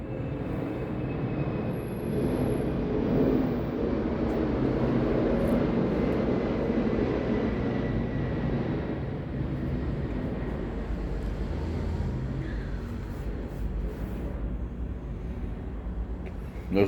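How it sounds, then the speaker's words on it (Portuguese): An airplane passes overhead, a broad low engine roar that swells in the first seconds and then slowly fades over the remaining time, heard alone without talk. "O avião vai passar."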